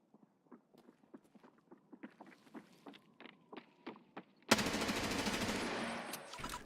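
A gun fires in Escape from Tarkov, a quick series of sharp, fairly faint shots in an uneven rhythm, then a sudden loud wash of harsh noise that holds to the end.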